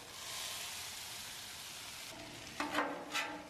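Chopped Philly cheesesteak meat frying in a pan with a steady, close hiss, joined near the end by louder scraping and stirring bursts as it is mixed together.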